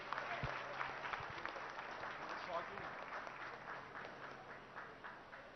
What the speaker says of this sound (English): Could we give a big round of applause to him